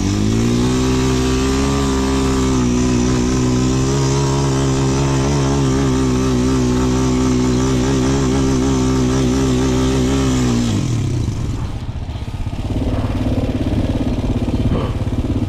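A motorcycle engine on a San Francisco road trip holds a loud, steady rev for about ten seconds, then drops abruptly into a rough, lower idle rumble as it is put in gear.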